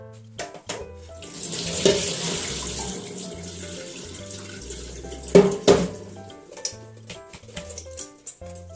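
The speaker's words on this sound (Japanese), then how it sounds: "ざるにあげて水切りします。" Shiso seeds washed in water and tipped into a colander in a kitchen sink, running tap water with splashing, draining and clattering of the colander and bowl.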